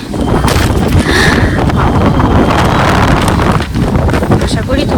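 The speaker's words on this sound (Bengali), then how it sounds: "দেখো কি প্রচন্ড হাওয়া" Strong wind buffets the microphone in loud, continuous gusts, roaring steadily with brief lulls and no clear talk.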